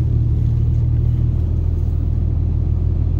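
A Yamaha Roadliner motorcycle being ridden gives a steady, close, deep engine rumble with road noise. It holds even throughout, with no voices.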